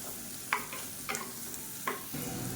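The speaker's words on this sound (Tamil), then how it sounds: "இந்த எண்ணெயிலே நல்லா கிறிஸ்பியாக வர அளவுக்கு இந்த வாழைக்காயை வந்து வறுத்து விட்டுக்கலாம்" Mashed raw banana with onions frying in oil, a soft steady sizzle with a few sharp spatula scrapes and stirs breaking through at intervals.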